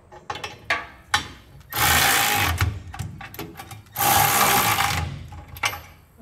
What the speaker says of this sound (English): We're going to use a 3/4 inch socket and wrench to do so.